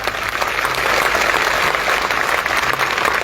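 Political rally crowd clapping hands continuously, a dense, loud, even wash of applause without a break.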